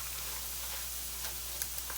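Food sautés in a pan on a home stove, a soft, even sizzle and crackle with a few faint ticks near the end, steady throughout and free of talk.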